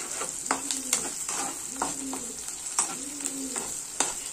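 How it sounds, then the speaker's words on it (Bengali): Onion fries with whole cardamom, cinnamon, mace and two cloves in a pan for a paneer korma, a steady sizzle broken by repeated scraping stirs at a regular pace, close and moderately loud, with no voice. "আরও কিছুক্ষণ আমি পেঁয়াজটা ভাজবো।"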